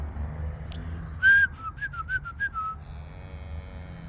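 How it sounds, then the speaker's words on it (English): A person whistles on a farm to call cows in for feed: a sharp rising whistle followed by a quick run of short chirping notes, then a steadier tone, heard fairly close over a low background hum. "I whistle like that to give them feed."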